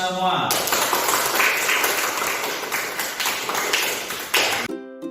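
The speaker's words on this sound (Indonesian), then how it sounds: "tepuk tangan untuk kita semua" A classroom of students applauding together, a dense burst of hand clapping for several seconds that cuts off abruptly near the end, with some voices mixed in.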